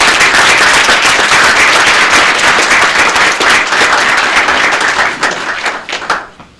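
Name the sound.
round of applause at city commission meeting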